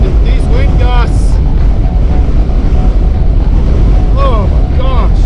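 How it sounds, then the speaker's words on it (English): Loud, buffeting wind gusts rush and roar continuously through the open windows of a moving truck, with a voice breaking through now and then over the constant blast. "I'm driving with my windows rolled down so the wind can get through with the wind gusts."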